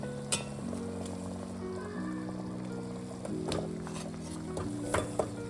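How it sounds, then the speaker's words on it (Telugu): Jaggery melting and simmering into syrup for peanut chikki, a soft bubbling boil with occasional stirring clicks of a spoon against the pan, steady and close, no voices. "కరిగి పాకం వచ్చే వరకు ఇట్లా ఉడకబెట్టాలి"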